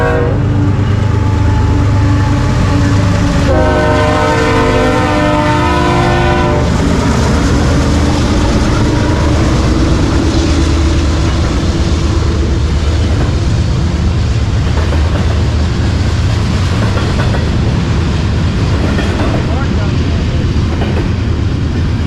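A Z-stack freight train rolls past near the Tehachapi line, loud and continuous, with a sustained multi-tone horn blast early on, then a steady heavy rumble and wheel noise.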